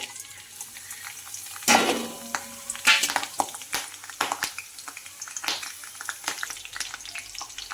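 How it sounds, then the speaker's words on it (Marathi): Garlic, green chili, peanuts and curry leaves crackle and spit in hot oil for a chivda, with a loud burst of sizzling near the start and then uneven popping and scraping stirs throughout, close up. "एक मिरची थोडे शेंगदाणे आणि कढीपत्ता हे आपण गरम तेलात मी पहिले फ्राय करू"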